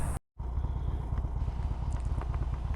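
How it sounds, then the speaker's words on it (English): An old Harley-Davidson Sportster motorcycle rumbles underway with a deep, steady engine throb and wind rush, broken by a brief dropout near the start. "So I'm going to jump on my old Sportster and I'm going to take a ride."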